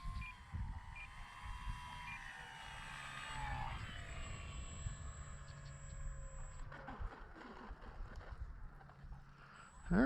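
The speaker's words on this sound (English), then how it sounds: "let's see if we can't get a landing out of this plane" A Dynam Waco RC model biplane drones overhead as it comes in to land. Its faint propeller whine shifts pitch as it passes at a distance, over quiet outdoor background.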